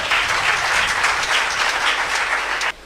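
A church congregation bursts into sustained applause and acclaim for God, a dense wash of many hands clapping close by, holding steady for a few seconds before stopping abruptly.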